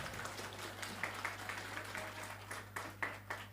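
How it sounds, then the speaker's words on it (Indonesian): An audience at a Quran study gathering applauds with scattered, soft claps over a low steady hum. The clapping stays fairly faint and uneven for a few seconds. "Tepuk tangan buat anak-anak kita."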